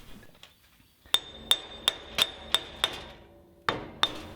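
Hammer striking metal while freeing the axle from a Toyota front wheel bearing: about nine sharp, ringing blows at a steady pace with a short pause before the last few, close and clear with no talking.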